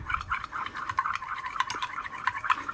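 Liquid soft plastic bait mix with pearl colour being stirred steadily in a container, with soft repeated scraping and clinking strokes at a close, quiet level.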